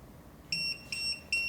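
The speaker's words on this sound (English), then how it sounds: "It is flash and beep." A Retekess TD158 pager gives three short, evenly spaced high-pitched beeps close by, standing clearly above a quiet background.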